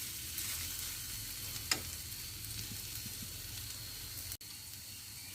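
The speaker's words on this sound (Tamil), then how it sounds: "இஞ்சி பூண்டு கலவை நல்லா பச்சை வாசனை போகிற வரைக்கும் நல்லா அப்படி எண்ணெயிலே வறுத்து விட்டுங்க." Ginger garlic paste frying in oil for a chicken liver fry, giving a steady soft sizzle throughout with one sharp clink partway and a brief drop near the end.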